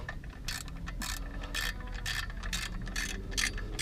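Rapid bursts of ratchet-wrench clicking while clutch bolts are tightened on an H22A engine during an XTD stage 3 clutch install, close and steady with short pauses between strokes, no talking.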